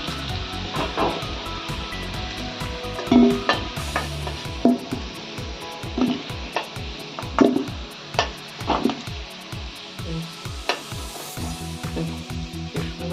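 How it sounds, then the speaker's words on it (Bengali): Unboiled fresh potatoes fry in oil while a spatula stirs them. Close, rhythmic scraping and knocking strokes repeat over a continuous sizzle, with no voices. "এইভাবে আমি আলুগুলো ভেজে তুলে নেব"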